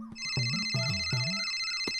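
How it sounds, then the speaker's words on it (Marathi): An electronic telephone ringtone for an incoming call at home: a steady, loud melodic tone with a repeating pattern of warbling notes, heard alone without talk. "आलाच महत्वाचा फोन."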